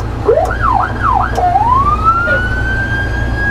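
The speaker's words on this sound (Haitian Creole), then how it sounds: "on a mis les sirènes dehors là, un peu pour nous démarrer le camion là" A fire truck's siren sounding outdoors in Haiti while being tested: a few rapid rising-and-falling wails, then one long steady upward sweep, loud and close over a constant low engine hum.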